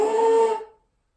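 Forced, strained buzzing on a trombone mouthpiece, a short harsh tone lasting about half a second before fading out.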